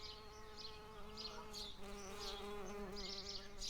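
Honey bees buzz steadily and close, a continuous droning hum with overlapping wingbeat tones that swell and fade as individual insects pass, with no voices.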